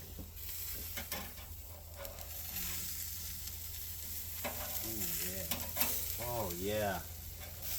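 Burgers fry in a pan with a steady sizzle and crackle, scraped and flipped partway through, while a voice briefly murmurs near the end.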